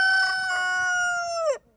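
A rooster among hens in a farmyard near Bariloche, Argentina, crows one long, clear cock-a-doodle-doo that ends with a falling note, loud and close over quiet background clucking.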